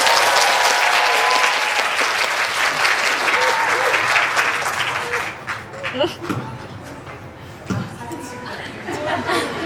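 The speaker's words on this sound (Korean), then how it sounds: "네, 큰 박수 부탁드립니다." Enthusiastic audience applause at a film screening event as two actors and the director take the stage, sustained clapping and cheering that thins toward the end, with a host speaking over it.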